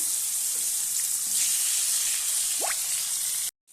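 Chicken meat sizzling in a pan of fried onion, garlic, ginger and whole chillies, a loud steady hiss with a few faint clinks and scrapes, cutting off abruptly at the end.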